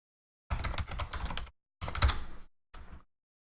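Quick clattering keystrokes on a computer keyboard come in three short bursts separated by brief pauses, close and fairly soft with no voices.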